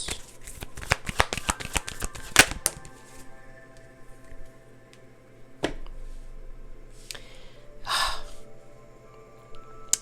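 A deck of tarot cards is shuffled in a quick cluster of sharp, close riffling clicks. Softer isolated card flicks and rustles follow over a quiet room background.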